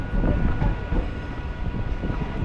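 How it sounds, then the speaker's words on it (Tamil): Rumble and rattle of a MEMU passenger train running from Tambaram to Villupuram near Chennai, heard from inside with steady wheel noise and car vibration, loud and continuous. "இந்த மெமு ட்ரெயின் ஜேர்னியும் ஸ்டார்ட் பண்ணிட்டேன்."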